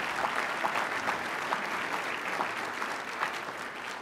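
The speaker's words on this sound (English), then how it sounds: "you can feel free to clap, that was nice" An audience claps for the governor at a speaking event, steady sustained applause from a mid-sized crowd that fills the whole moment at even loudness with no voices over it.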